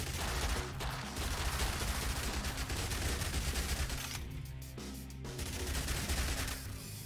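Minigun fire in the Yet Another Zombie Survivors video game: a dense, continuous rattling barrage of rapid shots, loud and steady throughout with a brief dip midway.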